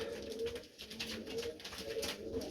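Colourful pigeons coo softly and repeatedly close by, low rounded calls overlapping in a steady murmur.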